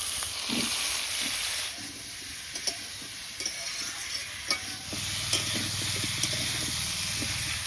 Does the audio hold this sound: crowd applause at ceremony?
no